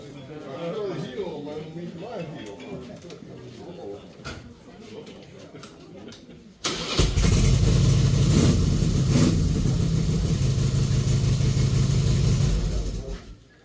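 A Harley-Davidson motorcycle engine fires up after people talk, settling into a loud, steady rumbling idle close by that runs for several seconds before cutting out.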